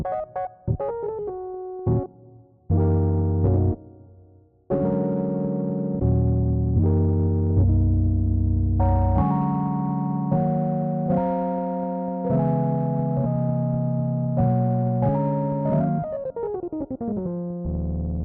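A gritty, distorted synthesizer plays a sequence of sustained notes and chords, buzzy and harmonically rich, loud and alone, ending in a descending glide.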